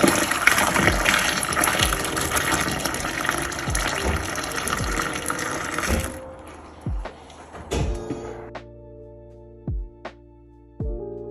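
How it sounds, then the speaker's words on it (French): Hot water poured into a container beside a kitchen sink: a loud, continuous gushing pour for about six seconds, then it stops and a few separate drips and splashes follow. "On va verser de l'eau chaude dedans."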